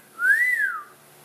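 A single short whistle from a person, rising then falling in one smooth tone, fairly quiet and alone against a faint background.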